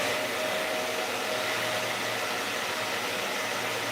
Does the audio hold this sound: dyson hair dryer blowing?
yes